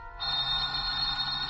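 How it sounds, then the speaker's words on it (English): An old-fashioned telephone bell rings in a radio drama, one steady, bright, continuous ring heard close and alone after a brief quiet start. "Just then your telephone rings."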